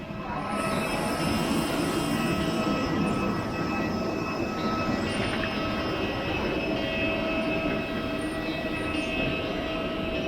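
A passenger jet descending to land on a flight from Bangalore, filling the cabin with a loud, steady engine roar and rushing air that holds unbroken from start to finish.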